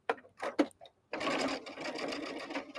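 A sewing machine stitching along a fabric edge while a soft cuddle sack is made, a few short starts and stops first, then a steady continuous whir of close stitching.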